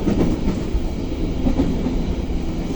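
Passenger train hauled by a CC 201 locomotive running at 60 km/h, a loud steady rolling rumble with wheel clatter, heard from on board, with no talking.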